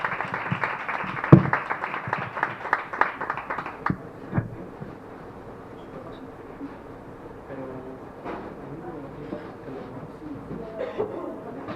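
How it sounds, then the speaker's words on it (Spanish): An audience at a talk breaks into applause, a burst of clapping for about four seconds that fades into scattered claps, murmurs and room noise. "Un aplauso para ella."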